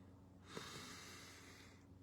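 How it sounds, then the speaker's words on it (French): A single long, deep breath drawn in steadily for about a second and a half, a soft, airy rush of moderate loudness with no talking over it. "Tu prends une grande respiration."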